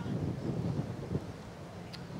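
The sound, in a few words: wind gusting outdoors at a lawn bowls match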